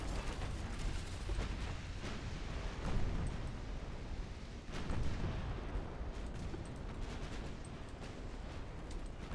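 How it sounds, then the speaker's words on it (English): An ammunition detonation aboard a warship in the naval video game Ultimate Admiral Dreadnoughts rumbles as a long, dense roar of booms and crackling blasts, swelling twice amid continuous battle noise. "No, the torpedo changed course. Ammo detonation."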